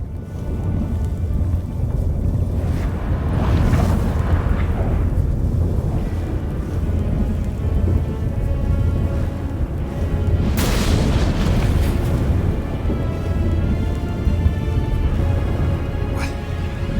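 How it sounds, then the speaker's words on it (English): A thunderstorm in The Witcher 3 brings deep, rolling booms of thunder over a steady rumble of wind, loud and continuous, with two stronger cracks swelling partway through. "That a storm?"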